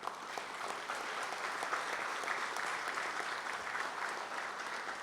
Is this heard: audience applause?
yes